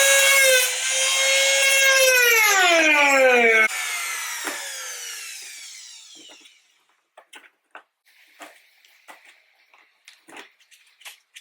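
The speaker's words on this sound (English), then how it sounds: "Now I'm gonna cut my hole right here inside" Cutting a hole in the rear bumper of a sixth-generation Honda Accord: a loud, high whining tool tone slides downward in pitch for several seconds, then gives way to scattered short scraping and cutting bursts.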